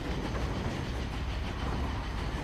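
Steady rumbling of a moving train, with a low continuous roar and dense rattle of rolling railway carriages throughout, no voices.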